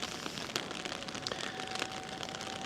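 Raindrops fall on a nipa hut near Mount Fuji, a soft, steady patter with scattered sharper drips, faint and close, with no voices.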